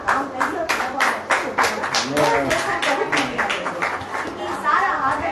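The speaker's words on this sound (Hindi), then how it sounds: "हम जोर से ताली बजाएंगे" A church congregation claps loudly in rhythmic bursts at a Hindi-language worship service, a sharp run of hand claps with voices and light chatter mixed underneath.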